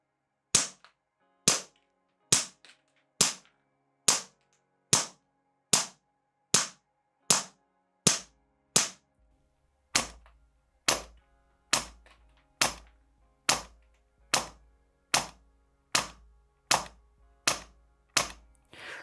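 A Begadi HPA airsoft AK, set to 8 bar and about 2 joules, fires 6mm BBs in about twenty sharp, fairly quiet snaps at a steady pace of roughly one per second, with a faint low hum in the later shots.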